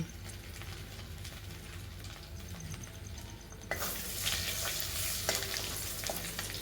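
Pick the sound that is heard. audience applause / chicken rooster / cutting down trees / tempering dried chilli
tempering dried chilli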